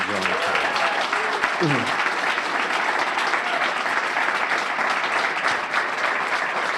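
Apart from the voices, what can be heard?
audience applause for principals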